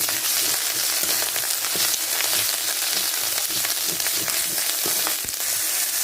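Ground dried red chili paste frying in a pan with turmeric for a picnic curry, a loud, steady crackling sizzle with bursts of spatter and occasional stirring clinks, close and continuous with no talk.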